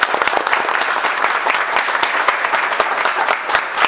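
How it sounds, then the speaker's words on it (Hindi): Listeners in a mobile phone repair class clap together, a brisk, dense patter of many hands with sharp individual claps standing out, continuing evenly throughout. "तो एक बार मिलन सर के श्रोता ताली बजा दो भाई"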